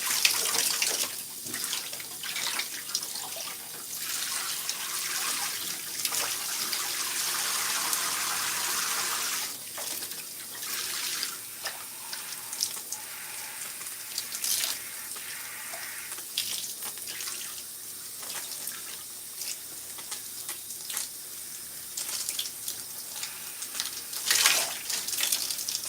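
Hot water runs steadily from a tap into a sink for nearly half a minute, a continuous hissing gush that shifts slightly in strength, heard close with no voices.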